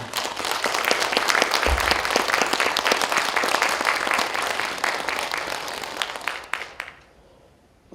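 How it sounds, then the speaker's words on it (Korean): An audience at a Korean literary festival in Yongin claps warmly for an honored guest, the head of a clan association, in a dense sustained round of applause that fills the room for about seven seconds before stopping abruptly. "뜨거운 박수 부탁드리겠습니다"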